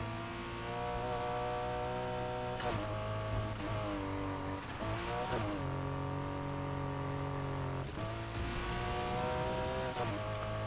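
Porsche Cayman GT4 engine revving and accelerating in the racing game Need for Speed Heat, a steady loud drone with rising pitch sweeps through gear shifts, continuous and close with no talking.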